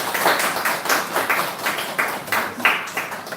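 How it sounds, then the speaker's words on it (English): A small audience at a seminar gives a brief round of applause, a few people clapping in loose rhythmic bursts at moderate distance, fairly sparse rather than a large crowd. "Can we have a round of applause to all?"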